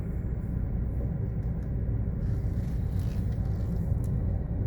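Cars sit backed up in a drive-thru traffic queue, heard as a steady, continuous low engine rumble from nearby vehicles with no clear individual events and no talking.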